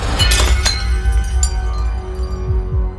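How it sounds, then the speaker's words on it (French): A tray slips from someone's hands and glass shatters, with a loud crash and clinking shards followed by scattered smaller tinkles and thuds as the debris settles. "Edward lâche subitement le plateau."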